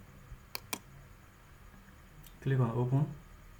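Two crisp, close mouse clicks land in quick succession on a computer during software installation, followed later by a short stretch of a voice speaking.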